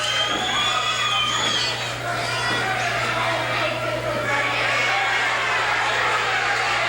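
Large crowd in a professional wrestling arena, the Junction, roaring and cheering steadily with shouts throughout, a dense continuous wall of voices under a low hum.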